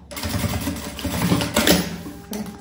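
Sewing machine running through a backpack seam, a steady close mechanical whir with a fast needle rhythm that surges briefly near the end.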